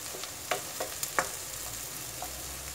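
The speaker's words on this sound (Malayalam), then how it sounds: "ഇപ്പോൾ കണ്ടില്ലേ ഉള്ളിയൊക്കെ നന്നായിട്ട് ഫ്രൈ ആയി വരുന്നുണ്ട്" Sliced onions fry in hot oil in a pan while an ivy gourd fry is cooked, a steady quiet sizzle broken by several sharp crackles and pops, with no talking.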